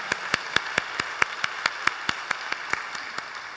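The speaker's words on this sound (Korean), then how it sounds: "우리 하나님께 감사 영광의 박수 올려드리겠습니다" In a church worship service, a congregation claps in a steady, even rhythm of sharp, fairly faint claps for a few seconds.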